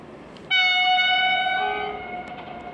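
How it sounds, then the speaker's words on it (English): A EuroCity train arriving at a station sounds its horn, one loud sustained multi-tone blast that starts abruptly and slowly fades over a low rumble, fairly close. "The train is approaching on track."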